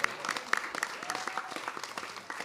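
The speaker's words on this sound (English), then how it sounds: "Yes, we can clap for that" Audience clapping at a library grand opening ceremony, a short burst of scattered applause from a crowd under a speaker's voice.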